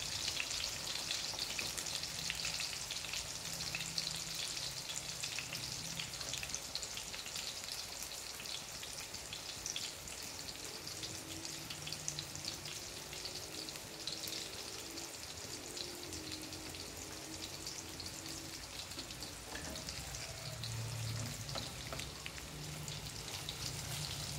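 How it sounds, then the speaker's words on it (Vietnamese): Pieces of food nearly done frying in hot cooking oil, turning golden, make a steady, dense sizzle and crackle that runs unbroken throughout, with no talking. "chiên gần xong rồi"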